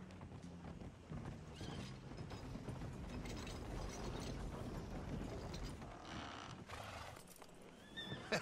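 Horses in Red Dead Redemption 2 give off clopping hooves and a whinny amid creaking, ratcheting tack and wagon mechanisms, a steady busy mechanical bed with brief brighter bursts near the end and no speech.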